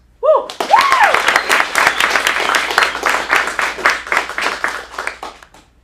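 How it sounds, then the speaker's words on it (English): Audience at an adult acting showcase in a Phoenix studio bursts into loud, sustained applause and clapping with a cheer, starting abruptly and tapering off near the end. "Round of applause."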